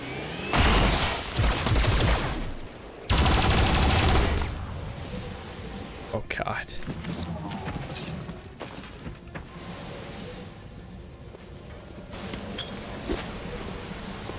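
Squad gunfire in the video game XCOM: Chimera Squad comes in two loud, sustained bursts early on, then settles into scattered impacts and crashes over a busy game mix, with a voice faintly present.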